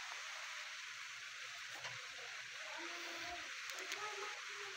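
Rain falls outdoors as a steady, soft, even hiss, faint and continuous, with a few small knocks and low sounds in the background.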